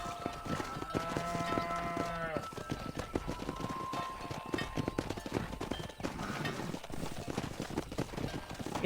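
Cattle are herded on horseback in the Red Dead Redemption game, with steady hooves clip-clopping over the ground, a lowing moo near the start and ambient game sound throughout.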